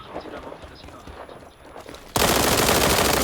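Gunfire from the video game WorldWar 3: a muffled, uneven patch of shots and movement that suddenly gives way to loud, continuous rapid machine-gun fire close up for the last second.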